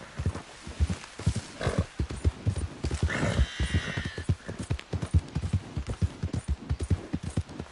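Horse hooves clip-clop at a steady walking rhythm in Red Dead Redemption 2, close and continuous, with a horse whinnying briefly midway and faint voices underneath.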